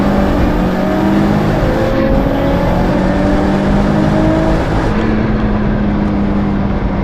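Car engine revving hard on a race track, a steady loud drone with shifting pitch as the driver pushes fast through corners, continuous and close throughout with no talk.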